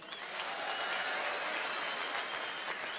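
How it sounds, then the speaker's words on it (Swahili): Steady crowd applause for Kenyan foreign affairs minister Alfred Mutua at a public gathering, a dense continuous clapping that holds even for about three seconds with no speech over it. "tuko na minister wa foreign affairs Alfred Mutua, pigieni yeye makofi"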